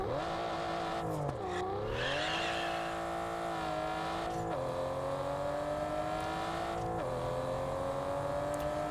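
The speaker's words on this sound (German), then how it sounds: "soundtechnisch haben die viele Autos sehr geil gemacht" A car engine in the video game Test Drive Unlimited Solar Crown drones steadily and revs up through several gear changes, each shift marked by a brief dip in pitch, with no talk.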